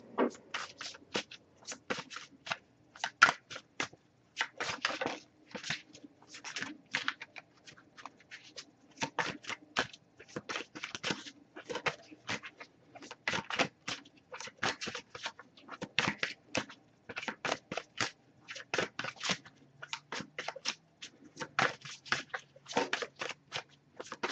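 A deck of tarot cards is shuffled by hand in a quiet room, a long run of crisp riffling and slapping bursts in an uneven rhythm, close and fairly soft, with no talking.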